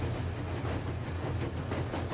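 A train running on rails in the video game Metro Exodus gives a steady, close, rolling rumble with a low droning hum. It runs without a break, and no one speaks.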